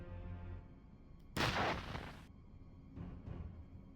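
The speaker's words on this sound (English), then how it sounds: "I think I've set off an explosion." Explosion in the video game Urban Runner, a sudden short burst of harsh noise lasting about a second amid quiet low background, followed by two fainter bursts.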